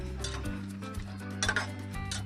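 Vegetable stalks drop into a metal wok of heating water, giving close clinks and clatter against the pan over a low steady hum, with no talking.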